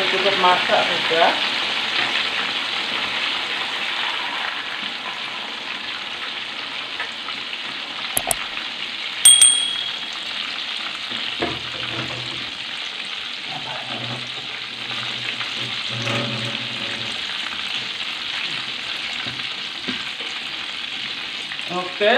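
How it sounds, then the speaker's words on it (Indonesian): Quail frying in a pan for a sambal kecap dish: a steady, close sizzle runs throughout, with occasional stirring scrapes and a couple of sharp metal clanks partway through. "Goreng burung puyuhnya dulu."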